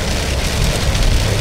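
Heavy rain pours onto a road in Saudi Arabia during a sudden downpour, a dense, loud, continuous hiss of drops close by with no voices.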